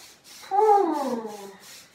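A squeaky rubbing sound of a bare foot dragging across an inflated rubber yoga ball, rising then sliding down in pitch, close and alone.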